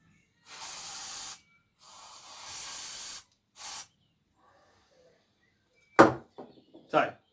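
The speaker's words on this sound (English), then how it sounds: "I've got release spray, so penetrating oil, like WD-40 type stuff" Three bursts of aerosol penetrating oil spray hiss close by, two long and one short, followed after a pause by a couple of sharp clattering knocks.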